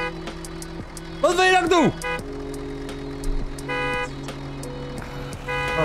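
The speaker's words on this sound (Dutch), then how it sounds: "je kan toeteren wat je wil, bro, maar dit gaat hem niet worden" Car horn honking in Food Truck Simulator, a few repeated toots and longer blasts in bursts, loud and close, with someone talking over and between them.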